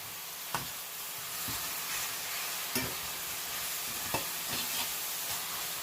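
Chopped garlic and mushrooms sautéing in a pan, giving a continuous close hiss broken by several sharp spatula taps and scrapes as they are moved around.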